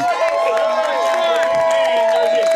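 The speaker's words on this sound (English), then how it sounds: "it's nice to hear our crowd, huh?" Home crowd at a high school football game against Middleboro, a steady roar of cheering and voices filling the stands throughout, with a commentator talking over it.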